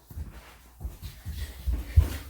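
A dog whimpers and snuffles in short soft bursts while trying to get at something, close by and quiet, with no talking over it.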